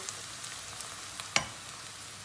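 Peppers sautéing in a pan for a spaghetti sauce, with a steady close sizzle and one sharp stir-like clack partway through.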